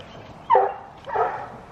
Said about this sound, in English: Even though they're barking at each other right now, they really do love each other.